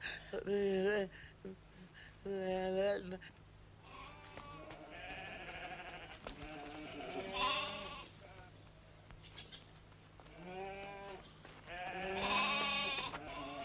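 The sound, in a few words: goat bleating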